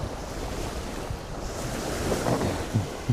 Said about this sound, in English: And it's a beautiful part of the world, relaxing sound of the waves.